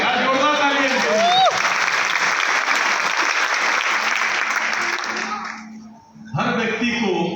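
An audience bursts into loud, sustained applause at an event, many hands clapping close and dense for several seconds, fading briefly before a voice speaks over a renewed burst.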